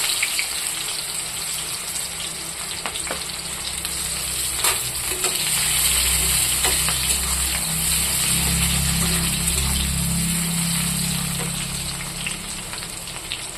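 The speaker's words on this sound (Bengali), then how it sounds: "দেখুন বন্ধুরা, তেল আমার গরম হয়ে গেছে। ওইটাতে দিয়ে দেব পেঁয়াজ," Sliced onions fry in hot oil in a home kitchen, a steady broad sizzle and crackle that swells midway, with a few clinks of a spatula stirring the pan.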